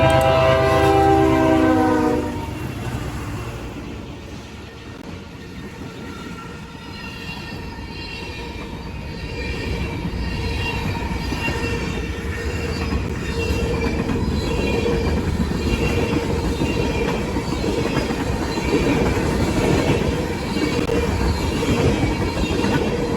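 Freight train M627 hauled by GE diesel locomotives, a loud horn blast at the start followed by the steady rumble and clatter of passing cars, with squealing wheels and a rising roar as the train rolls by up close.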